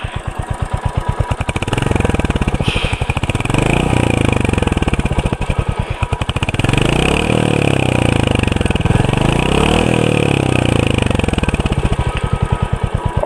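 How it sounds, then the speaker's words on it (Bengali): A Royal Enfield Hunter 350 motorcycle idling close by with a loud, thumping single-cylinder beat that holds steady throughout, rising briefly with a few gentle blips of the throttle. "অসাধারণ একটা সাউন্ড এই বাইকের।"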